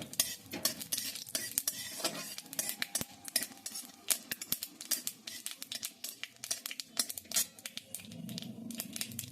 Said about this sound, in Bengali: একটু নেড়ে ভাজা ভাজা করে নিচ্ছি